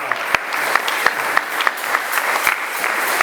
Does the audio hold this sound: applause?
yes